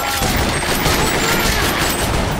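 Machine gun fire in the video game Time Crisis 5 comes as a loud, continuous, rapid barrage of shots that runs unbroken through the whole stretch.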